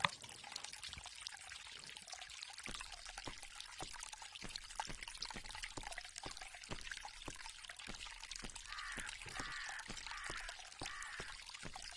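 Water pouring and trickling steadily, a continuous close stream with faint speech in the background and intermittent sharp ticking through it.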